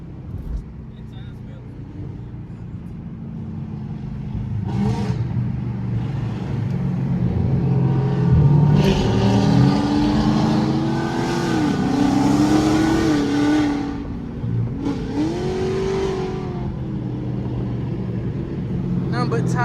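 Dodge Scat Pack and Hellcat cars revving hard and burning tires in city streets, loud engine roar that surges and climbs repeatedly over about twenty seconds, with people talking and shouting throughout.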